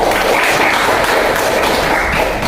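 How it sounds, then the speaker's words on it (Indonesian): A classroom of students applauds for the first group after its presentation, a loud, dense patter of clapping that carries steadily throughout with no pause. "tepuk tangan untuk kelompok 1"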